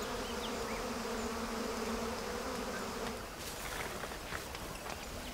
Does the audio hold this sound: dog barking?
no